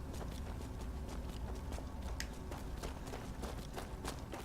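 Horse hooves clip-clop steadily in Skyrim, the quick, even beats sounding over a dense, noisy game soundscape at a moderate, fairly distant level.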